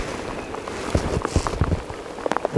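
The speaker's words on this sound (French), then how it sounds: "c'est vrai que là cette pluie pas très agréable" Rain patters onto a canal during a feeder fishing session, with scattered close drops and soft taps over a faint steady hiss.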